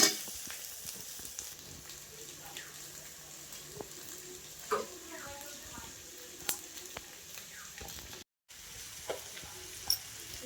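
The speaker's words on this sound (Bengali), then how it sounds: "আর আলুগুলো দিয়ে সজনা ফুল ভাজা হয়ে গেল।" Potatoes and drumstick flowers frying in a home kitchen, a soft steady sizzle running throughout with occasional stirring clinks and scrapes, close by and fairly quiet.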